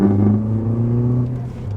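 A Ford Focus ST fitted with a new Torque Solutions downpipe hanger drives uphill, its engine droning in a steady, close low hum with a slight shift in pitch near the end and no voices.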